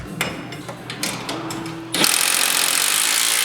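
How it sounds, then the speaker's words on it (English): Hardware on the driver's side upper rear shock of a Polaris RZR Pro XP is tightened with a power tool, a few short clicks and taps first, then a loud continuous rattling buzz that runs close through the rest. "Begin tightening down the hardware on the driver's side upper shock."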